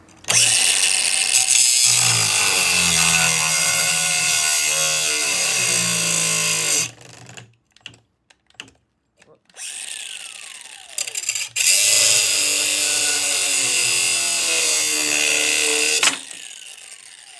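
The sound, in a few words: replacement fan motor of Fedders air conditioner running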